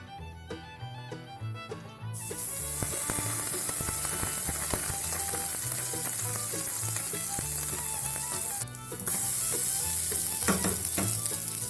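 Slices of bread soaked for French toast sizzle in a pan of hot ghee, a steady close frying hiss with some stirring noise and a brief quieter dip partway through.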